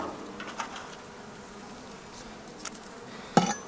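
Honey bees buzz softly and continuously around the center of a hive near the brood nest, a faint hum with a few brief knocks and taps.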